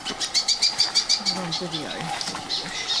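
Birds flap their wings rapidly in a rhythmic burst of close, whirring beats while mating on an island off New Zealand, then the flapping gives way to softer fluttering, with faint voices murmuring underneath.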